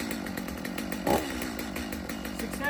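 A chainsaw with a freshly repaired pull-start rope, set on half choke with the chain brake on, buzzes with a rapid, rattling two-stroke drone close to the microphone, a sharper burst rising briefly in the middle.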